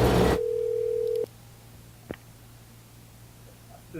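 A telephone call starts with a loud steady tone, likely a dial tone, that cuts off sharply, followed by a short click and a low background hum.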